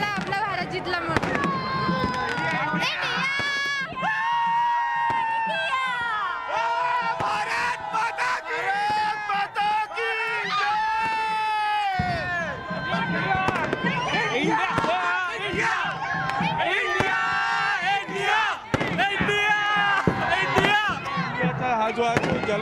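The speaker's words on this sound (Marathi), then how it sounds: "हा जो आहे तो जल्लोष आहे" A large crowd celebrates India's cricket win over Pakistan, with loud, dense cheering, shouting and whistles, firecracker-like pops mixed through, and voices filling the scene throughout.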